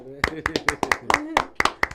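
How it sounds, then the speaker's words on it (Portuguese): Two or three people clap about nine sharp, close, fairly even beats to close out a podcast, and the claps sound alone. "Finalizar com palmas com você, né?"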